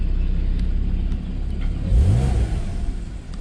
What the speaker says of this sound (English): it just sounds exactly like a Porsche Flat 6 should